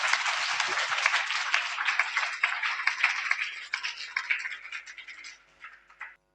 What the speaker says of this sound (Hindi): हाथ उठाकर जोरदार तालियां बजा दीजिए भाई।